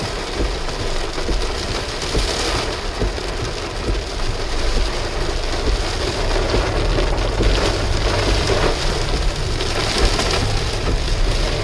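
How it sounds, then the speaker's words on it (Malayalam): Heavy rain pouring steadily on the road to Peppara Dam, a dense unbroken roar with a low rumbling undertone, loud and close throughout. "എല്ലാം ഭയങ്കര മഴയാണ്."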